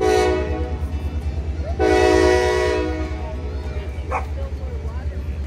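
Train horn blares from a short distance during an autumn train trip, with a dog barking loudly and repeatedly close by and a steady low rumble underneath.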